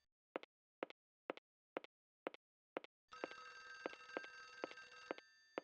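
Telephone ringing in a horror video game: six clean, evenly spaced electronic ring bursts alone in silence, then a louder sustained ringing tone with a repeating pulse and a dense hiss that continues to the end.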